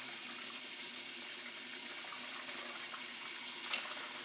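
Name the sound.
stock being poured into a bowl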